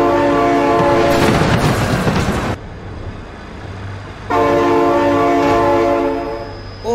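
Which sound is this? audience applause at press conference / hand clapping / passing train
passing train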